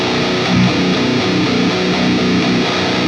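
An electric guitar runs through a Boss Metalcore ML-2 distortion pedal, playing heavy, saturated chugging riffs with a rhythmic pulse at steady volume and no voices.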